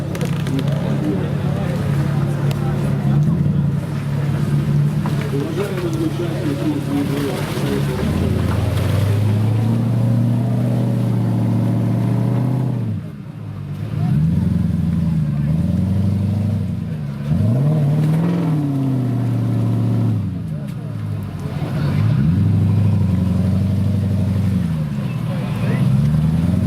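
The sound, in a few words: off-road vehicle engine revving while pulled by winch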